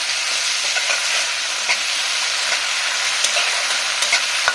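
Garlic, ginger, fresh and dried chili and tomato paste fry in hot oil for a ghugni made with goat fat, giving a loud continuous sizzle broken by light scraping stirs, with no talking.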